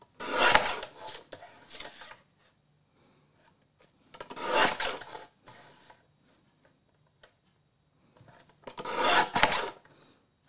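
Scissors crunch through paper being trimmed roughly to size for a scrapbook layout, in three separate bursts of close, rasping cuts with quiet pauses between them.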